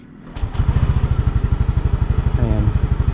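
Motorcycle engine starting up and then idling close by, with a loud, rapid, even putter of firing pulses after a couple of brief clicks at the start.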